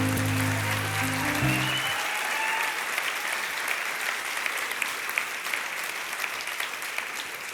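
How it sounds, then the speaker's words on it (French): An audience at a French-language sermon or talk on fallen heroes bursts into loud, sustained applause, a dense wash of many hands clapping that starts under a fading tonal note and carries on steadily. "Est-ce qu'on peut applaudir bien fort?"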